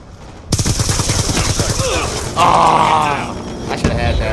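Rapid gunfire from the Black Ops 2 multiplayer video game, with machine-gun bursts and a louder volley, mixed with game voice callouts and other game effects.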